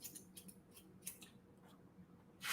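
Scissors cut hair bluntly on an elevated diagonal section for a textured pixie, giving several quiet, close snips in an irregular rhythm.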